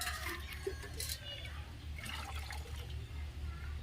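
Water is poured into a pot of country chicken biryani, a faint gurgling liquid stream beneath people talking nearby.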